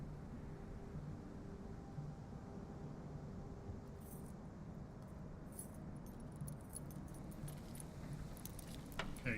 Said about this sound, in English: Keys.